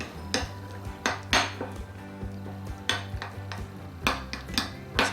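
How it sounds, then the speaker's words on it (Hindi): A spoon taps and scrapes a bowl in repeated clinking strokes as a flour paste mixture is stirred for layered kachori. The sounds are close, rhythmic and fairly quiet, with no talking. "इसको अच्छे से मिक्स कर दूँगी"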